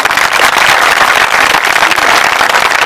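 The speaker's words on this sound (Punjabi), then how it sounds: "ਤਾੜੀ ਮਾਰਾਂਗੇ ਜ਼ੋਰ ਦੀ।" Loud, sustained applause from a church congregation at a night prayer meeting, dense clapping filling the hall steadily without a break.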